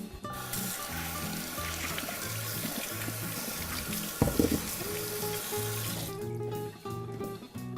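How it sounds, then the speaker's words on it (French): Potatoes are rinsed under a running kitchen tap, water gushing steadily into the sink with a few splashes and knocks, close and continuous. "On va les passer sous l'eau un petit peu."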